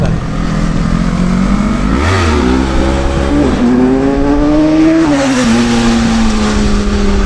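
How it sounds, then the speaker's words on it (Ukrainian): Bikers' motorcycles revving hard at a gathering in Sumy, Ukraine, with engines climbing and falling in pitch as riders pull wheelies, loud and continuous with wind noise over it. "Мотоцикли зібралися, чоловік 20 мабуть, і ото вишивають на задніх колесах."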